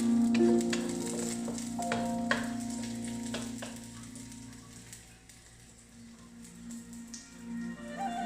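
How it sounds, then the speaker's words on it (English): Garlic stirred in a frying pan while cooking stir-fried pasta, a steady close sizzle with scraping stir strokes in the first few seconds, then settling into a quieter continuous fry. "I'm going to stir."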